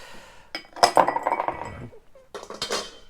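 A large piece of ice clinks and knocks into a rocks glass while a rye whiskey cocktail is made, bright glassy clatters in two bursts, close and fairly loud.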